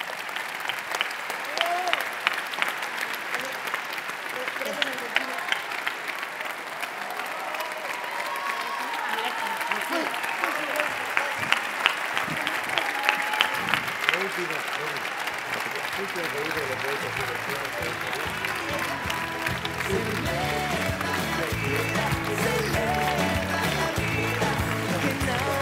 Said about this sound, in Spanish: Este aplauso merecido para Esteban Bullrich.